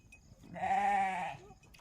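During feeding, a single goat lets out one short, clear bleat close by, rising and fading within under a second against a quiet farm background.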